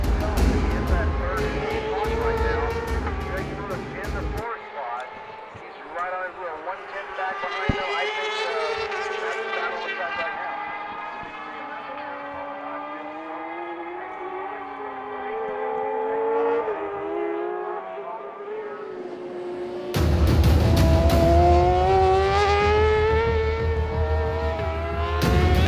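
Sportbike motorcycles racing at Road America in Elkhart Lake, engines wailing and shifting pitch as the bikes pass. They are loud at the start and the end, with a commentator talking over the racing throughout.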